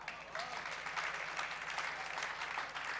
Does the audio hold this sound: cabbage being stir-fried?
no